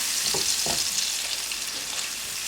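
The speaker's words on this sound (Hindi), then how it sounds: "इस मसाले को आपने पहले इस तेल में भूनना है" Masala frying in oil on a high flame gives a loud, even sizzle and hiss, with a couple of soft stirring scrapes near the start.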